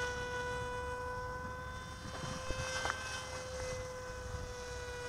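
An RC autogyro, the MIA EZ Gyro with a high-mounted motor, flies at full throttle, giving a steady, thin electric motor whine with faint tonal drone held throughout at a moderate distance, no speech.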